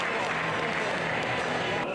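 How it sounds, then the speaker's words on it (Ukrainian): A hall audience at a kettlebell sport competition applauds continuously, a dense steady wash of clapping that holds for the whole stretch, with a murmur of voices mixed in. "зал щиро аплодував кожному спортсмену"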